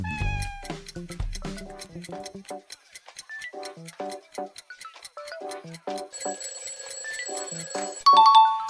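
A cat meows repeatedly amid a busy mix of chiming electronic tones and bell-like notes, ending in a louder ringing burst.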